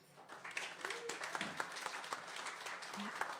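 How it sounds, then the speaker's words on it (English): An audience at a memorial music jam in The Border Crossing Pub, Calgary, Alberta, claps in warm, sustained applause that swells quickly and holds steady, with a few voices faintly underneath. "Let's give them a warm round of applause."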